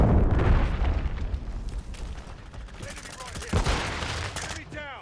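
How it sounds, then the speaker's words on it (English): A cruise missile strike hits in a Call of Duty Modern Warfare 3 multiplayer match, a heavy booming explosion amid gunfire and rumble, with a second blast and game voice announcements layered over the chaos. "Hostiles launched a cruise missile."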